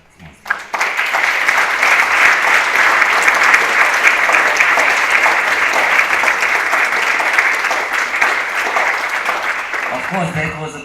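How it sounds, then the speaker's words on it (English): An audience applauds the speakers after a lecture and panel discussion at a medical faculty in Zagreb. The clapping is loud, dense and sustained for about ten seconds, then tapers off at the very end. "Of course, that was applause for our speakers, not for us."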